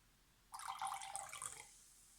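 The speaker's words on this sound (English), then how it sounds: "We want to carefully pour in a little bit at a time the lemon juice into the water" Lemon juice poured in a short steady stream for about a second, a bright splashy trickle into water, then quiet.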